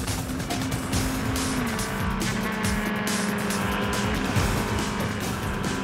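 A police motorcycle accelerates hard at high speed in pursuit of a fleeing driver on Paris roads, its engine a steady, loud roar with rising pitch and dense wind and road noise throughout.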